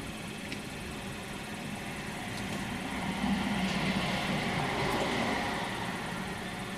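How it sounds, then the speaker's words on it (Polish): A Honda car engine idles just after starting, a steady low rumble holding evenly throughout, slightly fuller midway, with no one talking. "naciskam sprzęgło i palę. Ok, zapalona."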